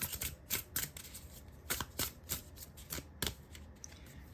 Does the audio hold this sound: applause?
no